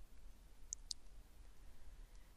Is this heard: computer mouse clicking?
yes